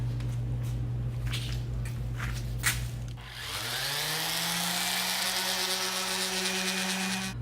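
An electric sander working a table surface for prep spins up partway through and then holds a steady, close whirring drone after a stretch of quieter handling noise.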